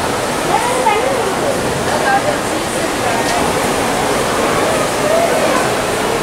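Water mist sprays over the plants inside the Cloud Forest conservatory at Gardens by the Bay, Singapore, making a steady, dense hiss that holds unbroken and fairly loud throughout.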